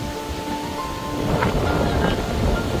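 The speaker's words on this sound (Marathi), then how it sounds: "वारं सुटलंय" Strong wind blows across Sanjeevan island near Vadval Nagnath in Latur district, giving a steady, loud, rushing roar with gusty swells and no talk over it.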